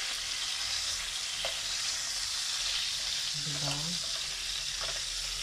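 Tuna fillets fry in a pan for sarsyadong tuna, giving a steady, close sizzle and hiss throughout, with a brief spoken word and a short higher tone near the middle.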